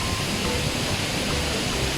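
Jeram Enggang waterfall in Jelebu, Negeri Sembilan, roars as a steady, dense broadband rush of falling water, close and continuous with no voices.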